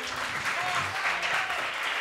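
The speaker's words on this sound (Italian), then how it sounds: "con Mister Adeola scatta l'applauso" A studio audience on a sports talk show applauds in a steady, moderately distant wash of clapping, with voices faintly audible underneath.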